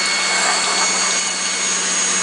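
An electric mixer creams butter and sugar for vanilla cupcake batter, giving a steady, loud, unbroken motor whir with a faint hum and no talking.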